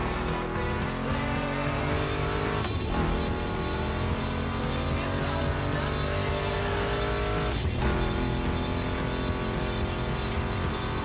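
Mustang GT muscle car engine in The Crew Motorfest driving game, a loud continuous roar with steady tonal harmonics, shifting pitch twice as gears change, with hints of tire squeal throughout.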